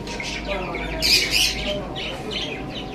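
Several birds squawk and chirp in a noisy bunch, with a louder burst of harsh calls partway through over a steady background hum.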